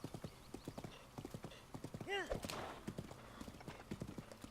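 Horse hooves clip-clopping at a steady trot while riding along a road in Zelda: Breath of the Wild, a quiet, regular rhythm with a brief whinny midway and a person talking over it.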